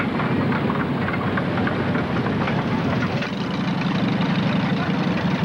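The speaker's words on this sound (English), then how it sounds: "She eases it forward, see the tractor move forward." A 1937 Gibson tractor engine chugs steadily as the tractor eases forward at an outdoor show, a continuous low rumble heard from a moderate distance with crowd noise around.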